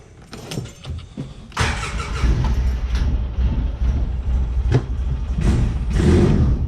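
A sand car's engine cranks and fires up after a fuel pump swap, rising from light clicks and rattles into a loud, close, steady rumbling idle that keeps revving slightly, with no talking.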